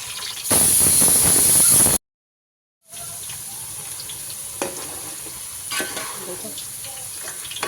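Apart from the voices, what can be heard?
potatoes frying in a pan for mutton pulao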